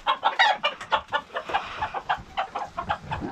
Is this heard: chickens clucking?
yes